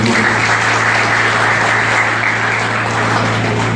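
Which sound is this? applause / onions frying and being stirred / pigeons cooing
applause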